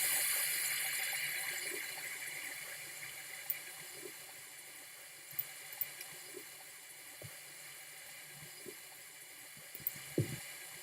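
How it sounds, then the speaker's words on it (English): Water runs steadily as a horse is bathed in the video game Star Stable, a soft continuous wash with faint scattered clicks and taps over it. "And now we are just going to give him a bath"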